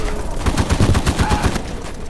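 Rapid automatic gunfire in the WW2 shooter Polyfield as a player guns down a bot, a loud continuous stream of evenly spaced shots with no talk over it.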